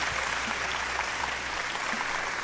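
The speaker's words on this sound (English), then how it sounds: "the applause means that we should start talking" Steady, dense applause opens a Sunday radio show, a continuous wash of clapping at even loudness with no talking over it.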